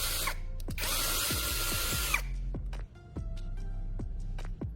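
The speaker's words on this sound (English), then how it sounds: "Even after drilling multiple holes continuously, the drill still operates strongly without any signs of weak power" Power drill running continuously at full strength during repeated hole drilling, a loud sustained whine for about two seconds followed by sharp clicks and knocks as the bit works.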